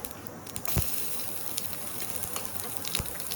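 Chopped garlic sizzles in hot oil with popping mustard seeds in a pan, a soft steady frying hiss broken by a few sharp pops and crackles, close and fairly quiet.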